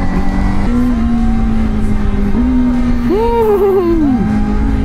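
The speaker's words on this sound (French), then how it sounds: "Et il me passe une Fireblade avec une route sans limitation de vitesse." A Honda Fireblade motorcycle on an open Isle of Man road with no speed limit gives a loud, steady engine drone, then a sharp rising and falling rev sweep near the end, with no voices.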